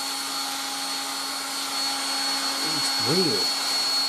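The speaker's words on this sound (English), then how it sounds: "The weirdest hairdryer I've ever used." A 1960s Dateline DLMD vintage hairdryer runs with a steady, even motor whine and airflow hiss throughout, while a person speaks briefly near the end.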